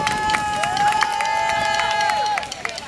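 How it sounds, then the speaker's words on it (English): A crowd at a community park event in Detroit claps and cheers, with a dense wash of clapping, a sustained whistle-like tone and a few sharp accents, fairly loud and steady throughout. "Round of applause, please."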